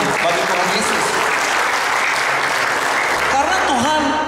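A conference audience at a national Alpha gathering in Papua claps together in praise, a dense, loud, continuous burst of applause with a voice briefly rising over it near the end.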